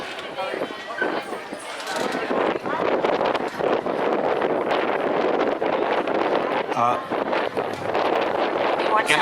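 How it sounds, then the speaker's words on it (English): Gusting wind buffets an outdoor microphone at the Naples India Fest, rumbling in uneven bursts under a continuous amplified voice speaking to the crowd. "It's been a beautiful day, even though it's a little windy"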